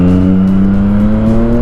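Triumph Street Triple 660 motorcycle with an SC Project exhaust held at a steady high rev during a wheelie, a loud, continuous engine drone that climbs slightly in pitch, with no talk.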